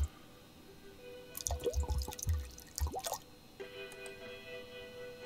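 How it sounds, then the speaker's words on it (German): Motor oil is poured from a bottle into a car engine in the video game Gas Station Simulator, heard as a short run of close, wet glugging and dripping sounds before a quieter tail. "Halte RT zum Gießen."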